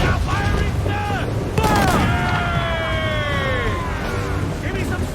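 Ship cannon fire in the video game Assassin's Creed IV: Black Flag, heavy booms and a crashing volley amid shouting crew voices and whistling projectiles at sea.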